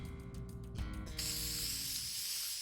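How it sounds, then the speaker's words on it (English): A sleeping gas spray in the video game Root Letter bursts into a sustained, bright hiss that takes over after a brief mechanical clatter and musical tones, holding steady to the end. "They spray me with sleeping gas,"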